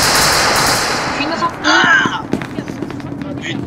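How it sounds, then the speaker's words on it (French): Gunfire in SCP Secret Laboratory, a burst of sharp shots following a stretch of steady background noise, with an electronic tone and a voice speaking nearby. "Putain, ça tire."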